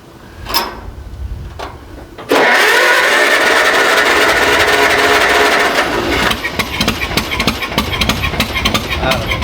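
A few clicks, then a Kubota diesel engine in a Cub Cadet cranks and catches, settling into a loud, steady diesel idle with a rough rattling rhythm.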